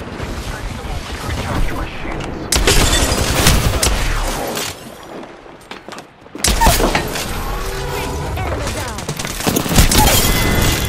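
Apex Legends gunfire bursts loud and close in rapid volleys, with a brief quieter gap before more sustained firing resumes.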